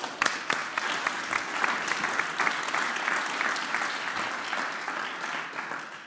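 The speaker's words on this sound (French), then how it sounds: "Alors applaudissez-vous." Steady applause from a small audience of about fifty people at the inauguration of a youth centre, continuous clapping that holds evenly from start to finish.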